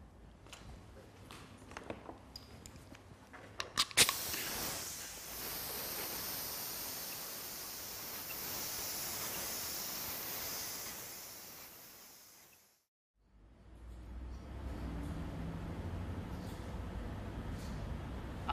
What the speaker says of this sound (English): That thin line will then be sprayed.